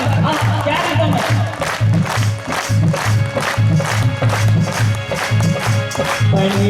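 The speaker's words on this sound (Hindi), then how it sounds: "ये जो तालियां है ना, जरा एक बार गुंजा दो, गुंजा दो इस पंडाल को जरा एक बार" Crowd in a satsang tent at a Guru Ravidas temple in Chandigarh clapping in steady rhythm and cheering, loud and close, with the claps falling in a regular beat over a droning musical backing.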